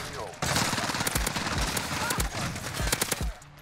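AN-94 rifle gunfire in Call of Duty Modern Warfare, a loud, steady stream of rapid shots with a few short pauses, running close up from start to finish over game sounds.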